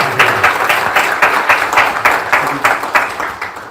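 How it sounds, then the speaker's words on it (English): A small panel audience claps for the speakers at a knowledge-series session, a fairly close, rhythmic run of distinct claps at a steady pace, loud and even throughout with no talking over it. "So please give a round of applause for Haytham,"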